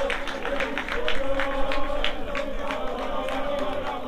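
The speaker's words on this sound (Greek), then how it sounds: "Κατά χειροκροτήμα ο Παπατζή μας έχει τρέξει πολύ" A stadium crowd at a Doxa Vyronas versus Proodeftiki football match applauds a departing player, a continuous rustling wash of clapping and crowd noise under steady commentary.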